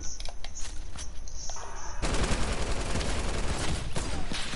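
Sustained automatic fire from a light machine gun in a video game, loud and dense, starting as scattered shots and swelling into a continuous burst for the second half.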